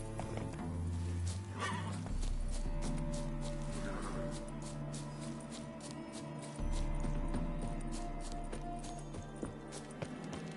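Roach the horse gallops in The Witcher 3 video game, with hoofbeats pounding under a layered soundtrack of tones and a whinny breaking through, loud and close with no talking.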